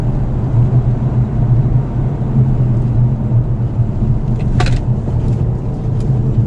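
A 2020 Aston Martin DB11 V8 gives a loud, close, deep rumble that holds steady throughout, with a brief higher burst partway through and no talk over it.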